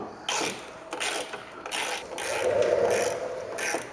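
Ratchet tightening bolts on a Yukon/Tahoe power running board, a series of quick clicking bursts repeating in a steady back-and-forth rhythm, close and fairly quiet.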